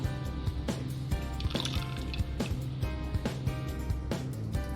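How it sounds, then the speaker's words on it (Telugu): Odourless oil is poured into cake batter, giving a soft liquid trickle and glugging with small repeated drips and splashes, faint and close. "వన్ బై ఫోర్త్ ఆయిల్ వేసుకుంటున్నాను"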